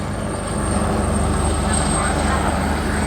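Helicopter at a coastal air show, straining under heavy power to lift a water bucket, a steady loud rotor and engine roar that holds evenly throughout.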